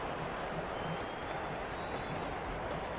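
Crowd noise fills a cricket ground during a women's T20 league match between Mumbai Indians and UP Warriorz, a steady dense roar of cheering and scattered applause with no pauses.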